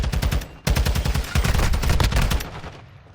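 Rapid automatic gunfire in a Call of Duty League esports match, with dense, close bursts of shots, a brief gap, then sustained firing that tails off into quiet.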